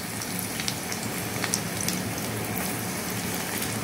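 Garlic sizzles in hot oil for a tadka, a steady close crackle and hiss with faint scattered pops running unbroken throughout, with no voices.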